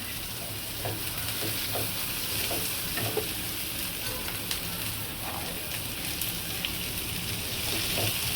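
Garlic sautéing in a pan for a millet-dosa chutney gives a continuous, close frying hiss, broken by light clicks and scrapes of stirring throughout, with no talking.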